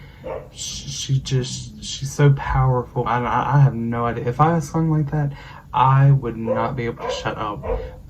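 A small dog barks from inside a bag, its yaps faint and partly buried under a woman's steady, continuous talking.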